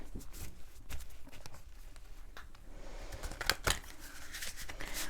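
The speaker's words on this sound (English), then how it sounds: "Let's give it a bit more of a shuffle." Tarot cards being shuffled by hand, a run of soft riffling and papery flicks with a few sharper snaps near the end, close and fairly quiet with no talking.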